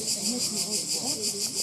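Cicadas on the Greek island of Paros buzz loudly in a continuous, pulsing drone, with a faint voice underneath.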